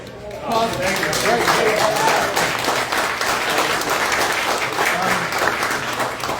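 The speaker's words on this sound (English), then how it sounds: "Another round of applause." Audience at an underwater history presentation about Lake Murray breaks into a round of applause, sustained loud clapping from many people that starts abruptly after a brief pause and holds steady, with a few voices murmuring underneath.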